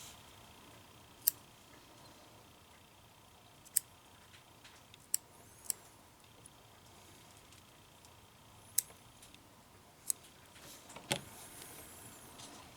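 Scissors snip excess crochet yarn in several sharp, isolated clicks spaced irregularly across a quiet background, with a brief cluster of small snips near the end.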